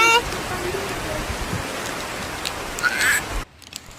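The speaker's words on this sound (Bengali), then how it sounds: "আজকে বৃষ্টি পড়ছে" Rain falls outdoors as a steady hiss and patter, with a brief bird-like call, a few bumps and a sudden drop in level near the end; a person's voice is audible at times.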